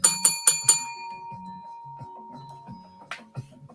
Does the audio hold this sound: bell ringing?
yes